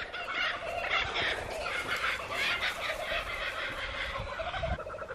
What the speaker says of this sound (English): Can you hear those kookaburras?